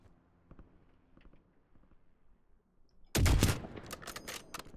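Loud burst of video game gunfire from sniping at about three seconds, sharp and close, followed by several rapid shots and crackling after quieter clicks and faint movement.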